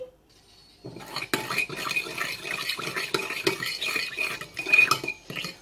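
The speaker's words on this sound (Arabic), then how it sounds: "غادي نضيف الابزار، صافي نخلط هادشي" Spices being stirred and mixed into shad fish with lentils in a pot, a spoon scraping and clinking against the pot in quick irregular strokes, close and fairly loud after a quiet start, with no talk.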